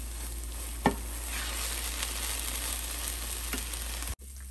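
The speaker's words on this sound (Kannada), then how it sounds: "ಸೊ ಈಗ ಇನ್ನೊಂದು ಲಾಸ್ಟ್ ಸ್ಪೂನ್ ತುಪ್ಪ ಹಾಕ್ತಾಯಿದ್ದೀನಿ. ಸೊ ಇದನ್ನು ಚೆನ್ನಾಗಿ ಮಿಕ್ಸ್ ಮಾಡೋಣ." A spoon stirs pear and bottle gourd halwa cooking in ghee in a pan, a steady sizzle with a couple of sharp scrapes against the pan, before the sound cuts off abruptly near the end.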